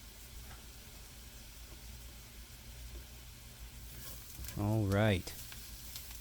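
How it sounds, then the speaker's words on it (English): Mushrooms and garlic sizzle softly in a pan for steak Diane, a low, steady frying hiss throughout, with a person speaking briefly near the end. "Let's add some mushrooms, which is a totally optional ingredient"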